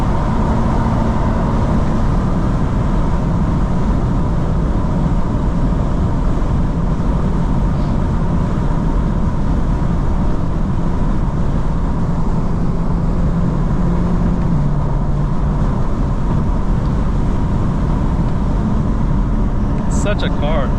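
A 2025 BMW M4 CS driving, heard from inside as a constant low engine and road drone that fills the whole stretch, while someone talks throughout.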